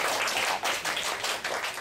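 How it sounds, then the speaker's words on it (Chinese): An audience at a holiday science event claps warmly to welcome a teacher, fast irregular bursts of hand claps filling the short stretch at a steady loud level. "我们现在就以最热烈的掌声欢迎我们谢辅仪老师"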